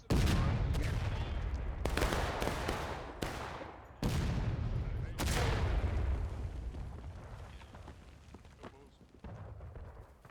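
Rifle volleys crack out in the American Civil War game War of Rights, several loud overlapping shots with long echoing rumbles, followed by a slowly fading roll of gunfire.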